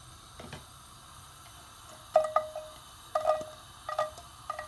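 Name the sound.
garlic sizzling in hot oil in a pan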